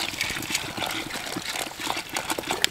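Water splashes and gushes continuously as three litres are poured from two plastic bottles into a pot while preparing tiger nuts for carp bait, close and fairly loud with no speech.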